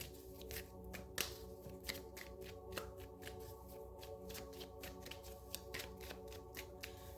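Tarot cards are shuffled by hand in quick repeated riffles and taps, a close, soft flurry of crisp card flicks with a steady background hum and no talk.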